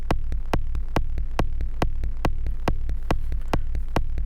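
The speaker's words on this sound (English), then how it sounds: "turn up the dry wet and the feedback on Electus Versio to start to hear that atmospheric reverb" Modular synth techno from a small Noise Engineering system, with a steady four-on-the-floor kick pulse and a low humming drone washed in atmospheric reverb from an Electus Versio module, loud and even throughout.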